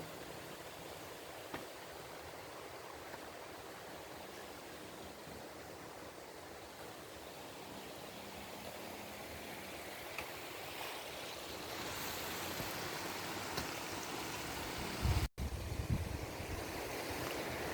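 Shallow, fast, clear river rushing over many stones beside a rice field, a steady close broadband babble holding throughout with a brief louder splash near the end.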